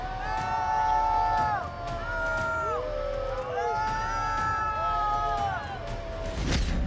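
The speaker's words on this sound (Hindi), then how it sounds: "लोग उन्हें देखते ही उनकी हूटिंग करना शुरू कर" A crowd in America hoots at Donald Trump: several voices let out loud, rising and falling whoops and shouts that overlap in waves over a constant murmur of crowd noise, ending in a sharp burst.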